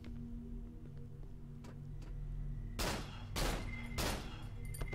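Gunfire in the horror video game Cry of Fear: three sharp, loud shots in quick succession toward the end, after a quieter stretch of low in-game ambience with faint ticks.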